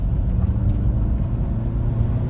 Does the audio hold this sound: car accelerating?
yes